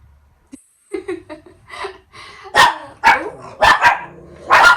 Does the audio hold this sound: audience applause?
no